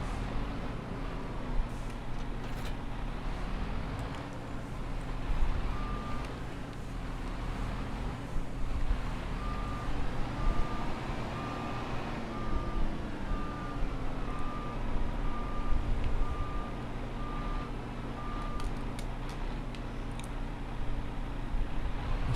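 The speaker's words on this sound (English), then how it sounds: "it's even got the backup alarm to let you know you're backing up." Repeated steady reversing beeps from a vehicle backup alarm ring over a loud, constant engine drone, the evenly spaced tones continuing for much of the stretch without talk.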